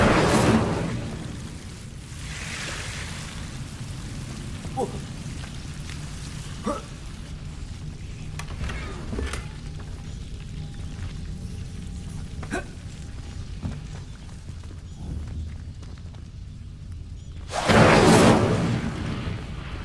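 Incendio fire spell cast in the Hogwarts Legacy video game: a loud fiery whooshing burst at the start and another near the end, with quieter clicks and a low ambient rumble between.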